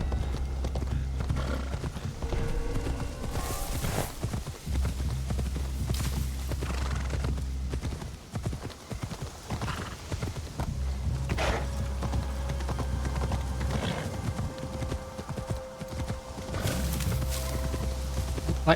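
A horse in Assassin's Creed Shadows walks with a steady, close clip-clop of hooves and gives a whinny, over a constant low game hum.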